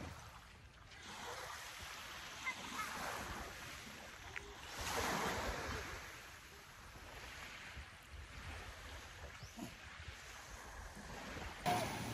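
Sea waves washing in at low tide along a shore, a steady broad wash of surf with gentle swells and light wind, heard alone without voices for the whole stretch.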